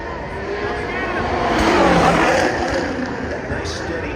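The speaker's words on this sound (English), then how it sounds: "That nice steady engine note makes it look like things are smooth and easy out there" A Formula 1 car races at the Las Vegas Grand Prix, its steady high-pitched engine note swelling as it nears and fading as it passes, with commentators talking over it.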